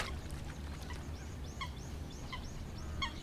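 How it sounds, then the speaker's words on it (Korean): A common moorhen at a lotus pond repeats short, sharp calls in a steady rhythm over a constant low background hum. "낯선 침입자가 나타났다. 물닭의 사촌격인 쇠물닭이다."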